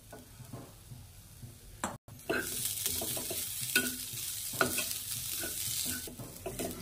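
Grated fresh coconut fries in a pan, a soft steady sizzle broken by repeated scraping stirs and light tapping of a spatula against the metal, with a brief dropout partway through and no voices.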